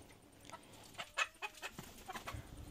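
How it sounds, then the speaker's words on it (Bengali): Several Egyptian Fayoumi hens cluck in short, irregular bursts, fairly close but soft, with no talking. "আমাদের এখানে যে মোরগ বা মুরগিগুলো দেখছেন সবই মিশরীয় ফার্মি জাত"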